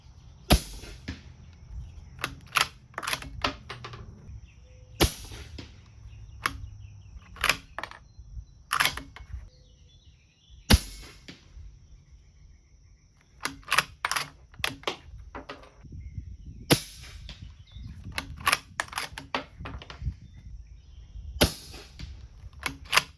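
Subsonic 300 Blackout rounds are fired from a BCA bolt-action AR at an outdoor range: a series of sharp, fairly close reports at irregular intervals, some spaced seconds apart and others in quick clusters, with quieter handling noise between them.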